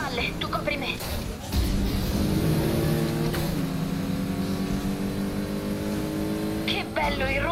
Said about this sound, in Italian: Che bello il rombo di questo motore.